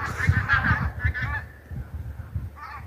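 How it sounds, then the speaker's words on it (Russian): Migrating geese returning north in Svetlogorsk, Belarus, honk in a noisy cluster of overlapping calls, close and loud over a rumbling outdoor background, then one last honk after a short lull. "В Беларусь с юга возвращаются гуси и перелетные птицы"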